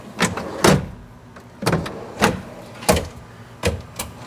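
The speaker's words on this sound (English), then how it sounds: "we're going to go ahead and cycle the drawer guides and make sure everything works well" Camp kitchen drawer on its guides inside a Jeep JKU Rubicon, cycled repeatedly: six sharp sliding clunks and latching clicks spaced about half a second to a second apart, close and fairly loud with no talking.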